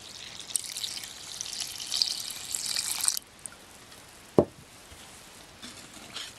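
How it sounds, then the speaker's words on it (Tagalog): Pandan-boiled water pours into a kutsinta batter mixture, a steady bright splashing stream that stops after about three seconds, followed by quiet and a single sharp clink. "Then dito po ilalagay po natin itong water na pinaglagaan ng pandan"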